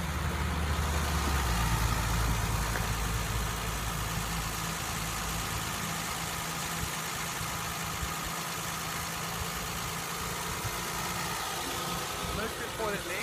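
A 1990 BMW 325i Touring's engine idles steadily, a continuous low mechanical hum with a faint ticking texture, heard close and unbroken for over ten seconds.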